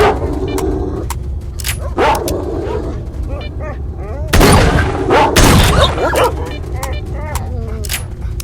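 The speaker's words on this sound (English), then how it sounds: "Damn dogs." Dogs bark and yip in Stalker: Shadow of Chernobyl, several short barks scattered across the scene with louder bursts midway over game noise, while someone talks intermittently.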